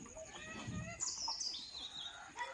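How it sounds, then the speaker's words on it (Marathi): Birds chirping on a morning in a Konkan village, bright high tweets and short warbling calls rising over quiet outdoor ambience, with a hint of nearby fowl. "पक्ष्यांचा किलबिलाट"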